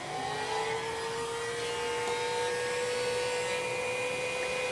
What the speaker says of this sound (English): using heat gun you can shrink your heat shrink tube